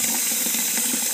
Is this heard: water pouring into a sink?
yes